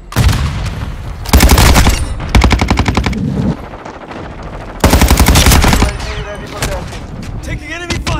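Automatic weapon fire in Call of Duty: Modern Warfare II crackles in loud, rapid bursts separated by short gaps, with scattered single shots and battle noise between volleys.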